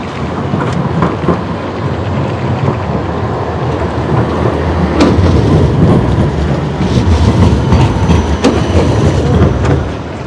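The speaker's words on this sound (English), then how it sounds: "Tram is coming." A tram approaching along a busy Amsterdam street, with a loud continuous rumble and rail clatter growing stronger, plus sharp metallic clanks over the city noise.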